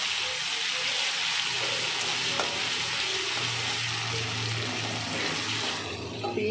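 Chopped onion frying in a pan with ginger-garlic paste gives a steady, close crackling sizzle that runs unbroken for several seconds beneath a faint low hum, with no voices.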